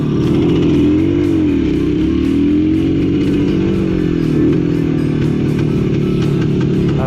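A Spanish motorcycle engine grumbles steadily in first gear while riding, a loud, continuous low throbbing note with slight rises and dips in pitch, close to the listener with no talk over it.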